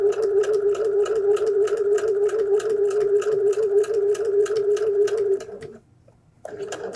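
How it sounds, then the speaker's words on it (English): A sewing machine runs close by, top stitching the edge of a seam of a homemade flu mask with a regular stitch length and matching thread, a steady rapid whir that stops briefly near the end before starting up again. "So just top stitching the edge of that seam"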